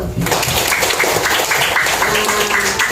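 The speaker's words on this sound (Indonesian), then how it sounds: "Tepuk tangan dulu." Primary school children in a fifth-grade classroom clap together in a dense burst of applause, close and fairly loud, lasting about three seconds with no talk.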